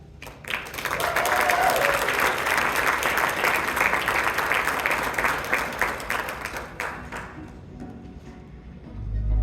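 An audience at a fundraising gala applauds as speaker Farah Jalisa is welcomed, with dense, steady clapping that swells quickly, holds for several seconds, then fades out, the hall fairly loud.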